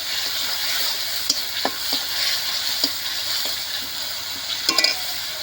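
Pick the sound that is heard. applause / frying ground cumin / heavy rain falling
frying ground cumin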